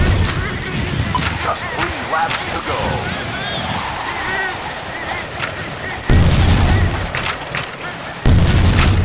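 Missile explosions in the racing video game 3D Ultra Radio Control Racers land as deep, booming blasts, two heavy hits standing out late over a rumbling, busy game soundscape.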